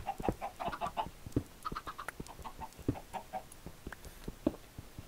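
Clucking chickens in Minecraft during a Skywars multiplayer match, a run of short clucks and squawks repeating irregularly at moderate volume with no talk over them.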